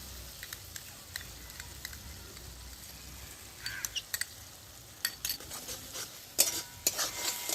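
Sour yogurt being stirred into cooked spice masala in a pan for egg poach curry, giving soft scraping and clinking of a spoon against the pan with light sizzling, quiet and intermittent, with sharper utensil knocks toward the end.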